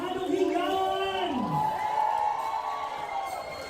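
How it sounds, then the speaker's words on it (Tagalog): A live audience cheers and whoops loudly for a performer, Jerome Evardome, an Elvis Presley impersonator, at a stage show in the Philippines. Several raised voices shout at once in a steady, dense crowd roar that runs through the whole moment. "isang masigaw palakpakan may halong higawan!"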